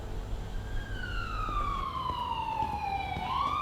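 A wailing siren sweeps downward in pitch and then climbs again, sounding fairly close over a steady background rumble of traffic.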